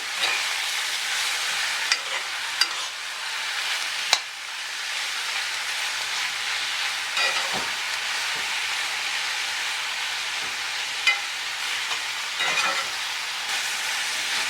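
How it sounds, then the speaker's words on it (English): Bitter melon (carilie) frying in garlic oil and being stirred, a steady bright sizzle broken by several sharp clicks of a spoon against the pan, close and without talk. "give it a stir, just so it's coated in that lovely garlic oil that we started off there with"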